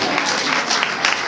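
Wedding guests applauding, a continuous wash of crowd clapping with a few sharper claps standing out.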